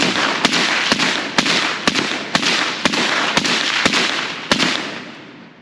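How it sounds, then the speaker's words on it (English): Suppressed FN SCAR 17 firing .308 rounds at a safe: about nine sharp, evenly spaced reports roughly half a second apart, each a crisp crack over a steady rushing background noise. "let's tag this thing up a few times with the good old suppressor on it"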